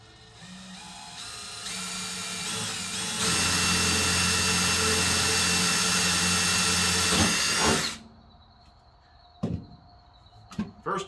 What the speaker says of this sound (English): I'm gonna go ahead and pop in a little spot here to pre-drill it